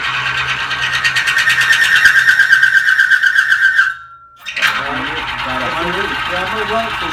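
A car engine runs hard and steady during an oil wear test, with a high whining tone. It cuts out abruptly for about half a second, then picks up again alongside some background voices.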